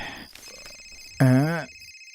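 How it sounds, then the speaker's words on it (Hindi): A single short electronic ring tone sounds clearly for about half a second after faint, low background murmuring; no clear speech is heard. "इतनी रात को किसका फोन है?"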